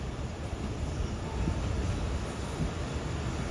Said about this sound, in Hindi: अब ट्रैक पर भी एक ट्रेन आ रही है